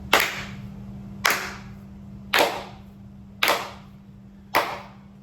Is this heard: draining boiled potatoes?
no